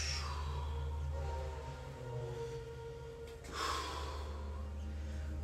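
A steady exhaled breath during a forward fold in a home yoga-style workout, heard as a soft breathy rush over a constant low hum, with a second breath swelling near the end.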